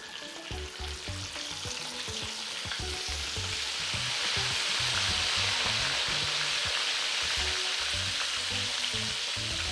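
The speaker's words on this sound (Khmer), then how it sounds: "មកបំពងក្តាមស៊ីត្រាវបែបហ្នឹង" Crab sizzles in hot oil, a steady crackling fry with bubbling pops and occasional stirring, close and even, growing slightly louder partway through, with no voices.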